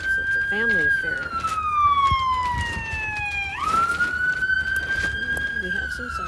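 Sirens from a nearby Long Beach fire station wail across an outdoor lawn bowls tournament, a loud sustained tone sliding slowly down then sweeping back up, with faint voices in the background.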